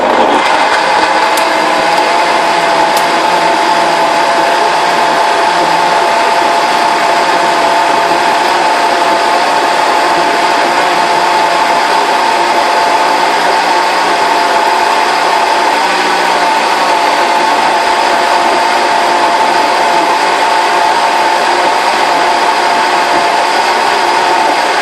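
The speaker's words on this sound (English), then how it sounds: "you just have to work with your own blender" A blender runs continuously and loudly, whirring steadily while mixing a smoothie, with a constant dense motor drone and no pauses from start to finish.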